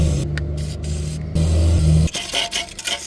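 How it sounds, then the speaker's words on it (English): Under an old cheap V8 car, penetrating oil is sprayed on rusty bolts. A low steady hum gives way to a run of short, harsh bursts of hissing spray close by. "I start with a nice spray of penetrant and a wire brush to help me get the bolts off"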